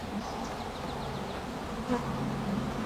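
Honeybees from brood frames, moved while building up a split colony, give a steady dense buzzing hum that stays close and continuous, with no voices over it.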